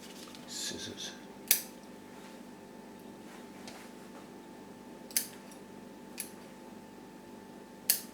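Faint, crisp snips of scissors cutting a plant cut in a few times at irregular intervals over a low background hum in a kitchen.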